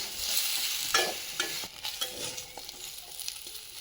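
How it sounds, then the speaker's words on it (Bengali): Plantain and pointed gourd pieces fry together in a pan, giving a steady close sizzle broken by several quick stirring scrapes. "এটাও সুন্দরভাবে এরকম ভাবে একসাথে ভেজে নেবো"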